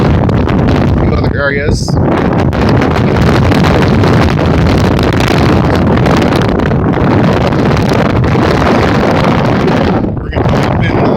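A strong windstorm in Spokane Valley roars across the microphone in a continuous, loud, buffeting rush with gusting surges, while someone speaks briefly beneath the wind.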